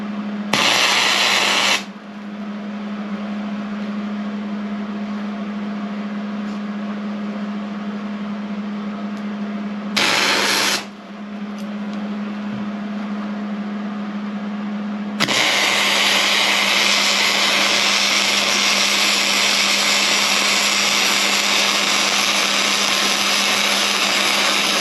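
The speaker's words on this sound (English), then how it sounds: "So let's get this tested and make a weld." A Hobart Handler 210MVP welder runs a test weld on bucket steel, giving a steady electrical hum with brief bursts of crackle, then a louder, harsher continuous buzzing hiss near the end.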